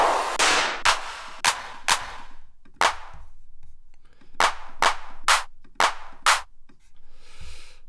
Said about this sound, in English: Sort of 808 and 909 claps